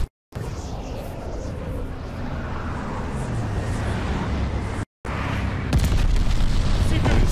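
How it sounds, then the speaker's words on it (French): Allied bombardment in the World War II shooter Call of Duty: Vanguard, heard as continuous heavy rumbling booms and dense blast noise. The barrage briefly cuts out, then swells louder toward the end, with faint voices underneath. "Bombardement allié déployé"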